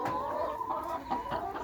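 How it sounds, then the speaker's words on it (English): Egg-laying hens on a chicken farm cluck busily, many overlapping murmuring clucks forming a dense, close flock chatter without any voices. "these are layer chickens that she gets eggs from to sell to people in the community"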